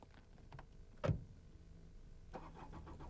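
A car engine starts quietly after a door sound, with a short sharp crank followed by a low engine turning over and settling, faint and at a moderate distance.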